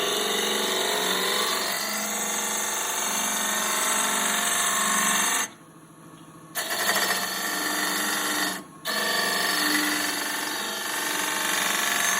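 A wood lathe tool peels side grain on a turning mortar and pestle blank with a continuous high whirring scrape, broken twice by short pauses as the tool lifts away, then resuming steadily.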